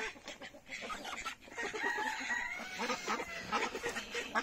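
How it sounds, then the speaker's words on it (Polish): Farm chickens cluck in a busy, overlapping chorus of short calls, moderately near and fairly soft, continuing throughout with no talk. "Kury mi powychodziły."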